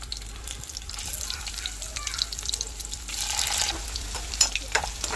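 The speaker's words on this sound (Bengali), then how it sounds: "এবার সিদ্ধ করা আলুটাকে একটু ফ্রাই করে নেবো।" Boiled potatoes fry in mustard oil in a wok, a close crackling sizzle that rises and grows busier partway through, with scattered sharp pops and scraping, no talking.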